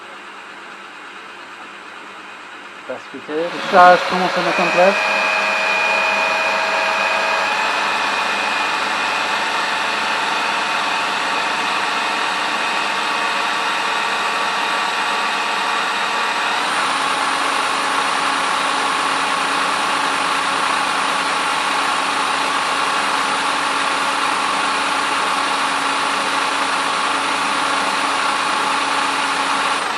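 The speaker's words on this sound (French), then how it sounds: "On démarre la voiture et on commence à tourner." A car with a failing alternator cranks briefly and catches, then settles into a steady, even idle with a constant mid-range hum, close and continuous, while someone speaks once in French.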